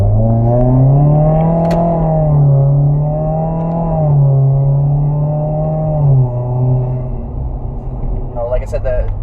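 A Subaru WRX with a turbo-back exhaust and top-mount intercooler, its engine rumbling and rising in a loud, deep drone that swells and settles over several seconds, close by.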